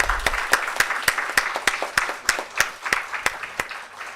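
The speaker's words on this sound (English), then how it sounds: "I think he deserves another big round of applause." An audience at a physics lecture series gives a round of applause for the lecturer, steady clapping with distinct, evenly spaced loud claps standing out from the crowd, sustained throughout.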